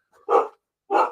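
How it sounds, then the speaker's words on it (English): A dog barks twice indoors, two loud close barks about half a second apart, the first preceded by a faint whine. "Excuse my dog."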